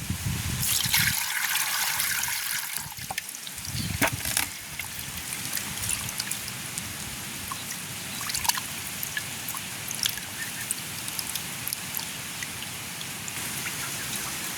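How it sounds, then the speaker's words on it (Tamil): Snakehead fish pieces being rinsed in a basin of water outdoors in a village, with steady close splashing and trickling throughout, heavier sloshing near the start and no talking. "நாங்கள் இன்னொரு தண்ணியில் கழுவுவோம்"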